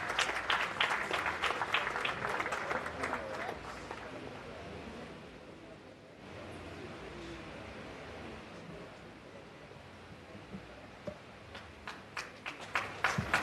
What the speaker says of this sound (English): let's put our hands together for Reverend Kusi Boateng